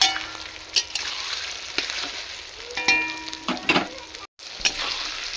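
Desi chicken curry being sautéed in a pan, giving a steady close sizzle and frying hiss with occasional stirring scrapes and clinks, with no talk.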